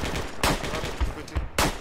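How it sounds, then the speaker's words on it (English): Loud, close gunfire in the tactical shooter Project Reality, with sharp shots and rapid bursts cracking over a constant roar of battle noise. "Sounds like somebody's fragging us from close range, too."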